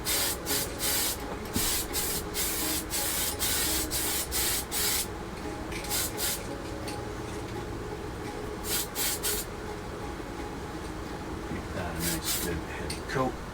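Short bursts of spray paint hiss in quick repeated pulses as a primer coat goes onto a Tamiya 1/32 F-51D Mustang model, close and crisp, with pauses between groups of bursts.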